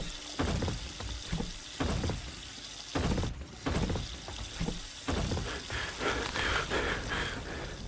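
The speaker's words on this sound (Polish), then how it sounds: "Dlaczego ten kran nie chce się wyłączyć?" A water tap that won't shut off in a paranormal horror video game, running steadily with a splashing, hissing gush and rhythmic bursts under the game's ambience.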